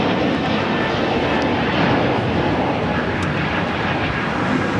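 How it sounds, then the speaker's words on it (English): A Japan Airlines Boeing 777-300ER departs LAX for Tokyo Haneda, its engines holding a strong, even roar through the whole short stretch, with no voices. "Japan Airlines, the 777-300ER now heading to Tokyo Haneda."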